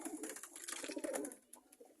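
A pigeon coos softly nearby in a quiet setting, giving a few low, rolling calls in a short run.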